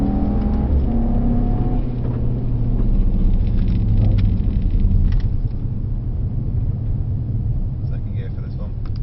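A Mercedes-AMG GT63S driving on a race track, with a steady loud engine drone and deep rumble inside the cabin, the pitch wavering slightly as the car accelerates and holds speed.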